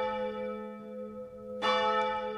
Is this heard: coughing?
no